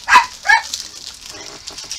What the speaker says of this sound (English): The dog's getting mad.